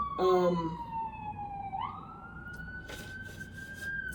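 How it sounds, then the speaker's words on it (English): A wailing siren sweeps down then rises and holds, moderately distant, with a few faint clicks and bumps around it. "okay, sirens."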